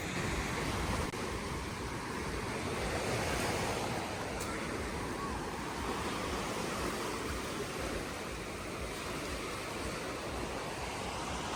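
Steady broadband surf of sea waves washing along the shore at a Turkmen seaside, a continuous close roar with some wind noise on the microphone and no talking.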